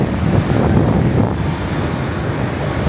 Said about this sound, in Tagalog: Tignan nyo yung hangin, napakalakas.